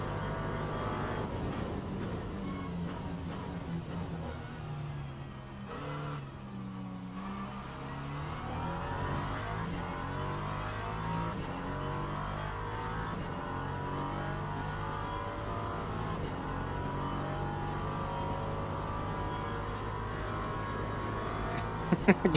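A Daytona GT3 race car in a racing video game at Monza, its engine roaring loud and continuous, with revs dipping briefly under braking before climbing again through the gears.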